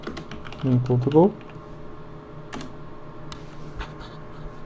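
A short burst of computer keyboard typing, a run of quick close clicks for about a second, then a few isolated keystrokes, with someone speaking briefly.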